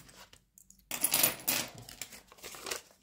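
Coins dropping and clattering into a container, a short burst of metallic jingling after a brief quiet gap, then a few smaller clinks as they settle.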